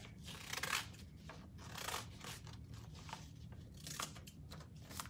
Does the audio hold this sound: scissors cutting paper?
yes